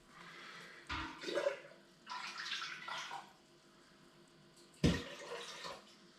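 Water splashes and pours in a few bursts into a multicooker pot of dried peas close by, with short pauses between pours and a faint background hum.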